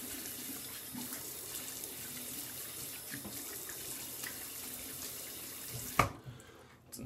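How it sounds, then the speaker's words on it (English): Tap water runs steadily into a sink while a freshly shaved face is rinsed, a continuous close splashing hiss that cuts off abruptly near the end. "Now, time to rinse."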